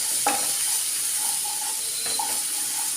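Crushed green chili, garlic and ginger frying in hot coconut oil, a steady close sizzle and hiss with a couple of brief spoon scrapes against the pan.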